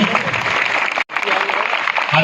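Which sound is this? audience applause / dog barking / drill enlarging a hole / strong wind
audience applause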